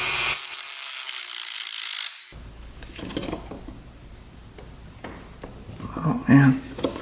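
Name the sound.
cutting slits into stripped screws on an ATV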